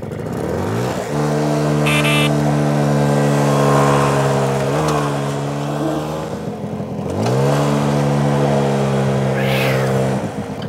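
A Piaggio Ciao moped fitted with a special cylinder accelerating, its small two-stroke engine revving up in a rising buzzy whine, easing off and then winding up again, loud and close.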